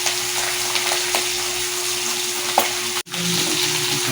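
Pieces of bacoco fish fry in hot oil with a dense, continuous sizzle and crackle, close and loud. A brief clatter and one short drop in the sound break the frying.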